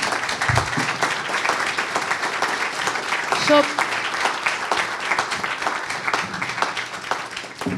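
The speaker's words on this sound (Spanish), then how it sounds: "Un aplauso" Audience at an education-and-work panel event bursts into sustained applause, dense clapping filling the room for several seconds while a voice speaks briefly over it.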